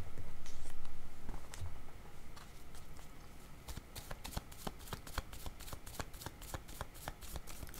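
A deck of cards is shuffled and drawn for a card reading, a close, quiet, steady rapid riffling and slapping that carries on throughout, with faint rustling underneath.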